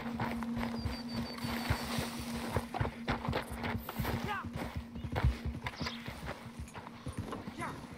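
Horse hooves clip-clop at a steady walking pace in the video game Red Dead Redemption II, close and continuous, with people talking over the rhythmic hoofbeats.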